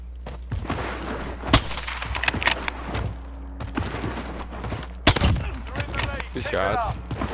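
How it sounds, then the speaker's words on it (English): Gunfire in the video game Modern Warfare, a few sharp bursts and single shots cutting through a steady background hum, with players talking over the action between shots. "Shots."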